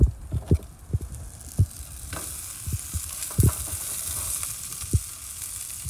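Lobsters fry in garlic butter with parsley in a pan, a steady close sizzle broken by repeated sharp knocks and clatters from handling in the pan, with no talking.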